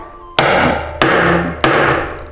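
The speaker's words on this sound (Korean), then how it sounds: "그러면 이제 모자를 씌워주고 망치를 이용해서" A hammer drives a metal snap button cap onto a leather pouch during a leathercraft class, three sharp, loud blows struck at an even pace, each ringing briefly before the next.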